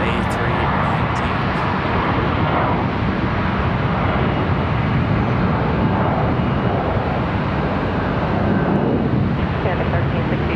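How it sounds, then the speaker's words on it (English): Airbus A319 airliner departing Charlotte Douglas airport, a steady broad jet roar that holds loud and continuous throughout, with faint voices in the background. "There goes the A319."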